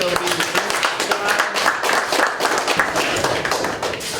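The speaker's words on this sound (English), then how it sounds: "So, Chao, let's give him a round of applause." Audience applause at a weekly startup meetup talk, a moderate burst of clapping from a room of listeners with some voices mixed in, fairly close and steady.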